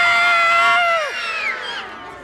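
Several voices scream together in high, wavering, falling shrieks during a Row, Row, Row Your Boat nursery rhyme session at a library baby rhyme time. The screams fade out over about a second.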